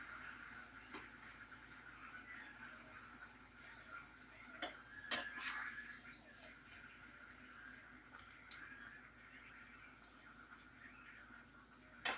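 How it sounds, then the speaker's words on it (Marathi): Jaggery kadakni dough frying in moderately hot oil, a faint steady bubbling sizzle with occasional soft clinks and scrapes of a utensil, heard alone at low volume. "आता मी ह्या तेलामध्ये तळून घेणार आहे।"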